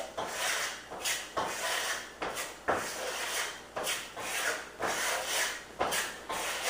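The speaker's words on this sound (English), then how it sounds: "you take the plaster and put it on the trowel, the edge of the trowel, and you just begin applying it to your wall" A trowel sweeps Venetian plaster across a wall in rhythmic scraping strokes, about one per second, each a raspy swish that fades before the next, close and alone.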